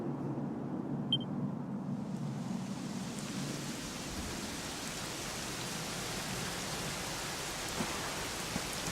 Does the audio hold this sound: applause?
no